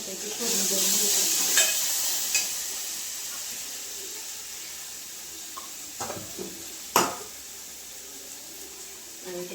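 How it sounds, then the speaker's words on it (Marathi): Curry leaves, cumin and a green chili and coriander paste hit hot oil in a kadhai, giving a loud continuous sizzle and hiss with a few sharp clatters of stirring, and no talk over it. "त्या तेलामध्ये टाकून मस्तपैकी फोडणी देऊन घेतो"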